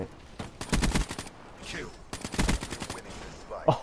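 Gunfire from a gun in Black Ops 3, two rapid bursts of fast repeated shots with a player talking in the gaps.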